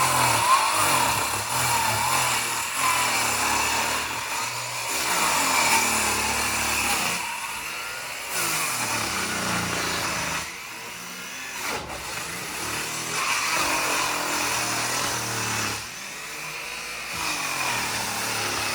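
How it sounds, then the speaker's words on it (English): A big chainsaw cuts timber on the roof of a 1770 farmhouse, its engine snarling steadily for long stretches and dipping briefly between cuts, loud and fairly near. "I'd switched over to the bigger chainsaw at that point."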